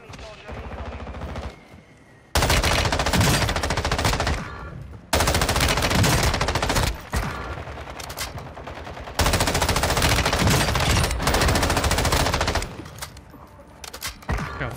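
Loud automatic gunfire in the video game Warzone 2, long sustained bursts broken by a few short gaps, close and dominant over the game audio.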